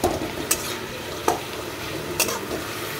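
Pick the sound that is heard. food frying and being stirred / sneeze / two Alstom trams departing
food frying and being stirred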